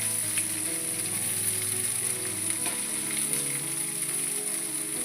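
Ginger, garlic, curry leaves and onion fry in hot oil in a pan, making a steady, dense sizzle that stays loud and even throughout, with faint stirring scrapes and no voices.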